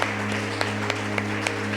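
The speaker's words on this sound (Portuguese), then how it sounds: "Vamos aplaudir bem forte a Jesus, igreja." A church congregation applauds loudly during a Wednesday prayer service, a continuous wash of clapping with a few sharper regular beats standing out over a steady low hum of sound equipment.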